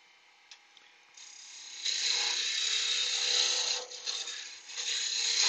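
A wood lathe spins a roughly rounded piece of tree wood, speeding up to just under 2000 RPM, with a faint whir that jumps to a loud, steady, high hiss as the cut begins, dipping briefly once or twice, and no talking.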